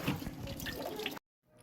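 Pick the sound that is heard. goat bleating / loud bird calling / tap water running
tap water running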